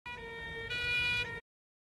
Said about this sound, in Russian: Скорая помощь